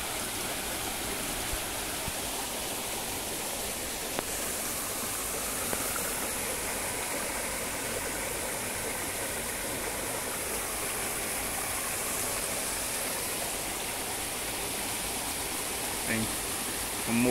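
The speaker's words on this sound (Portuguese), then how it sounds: "Esse riacho é de algumas barragens que está sangrando, está passando aqui água nesse riacho." Water rushing along a rocky creek fed by overflowing dams, a continuous close broadband flow that stays steady from start to finish, with a few brief knocks and a faint voice near the end.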